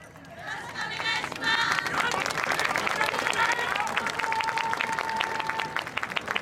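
Applause and cheering rise from a festival crowd at a YOSAKOI dance event, building after the first second and then holding loud and steady, with voices calling out through the dense clapping.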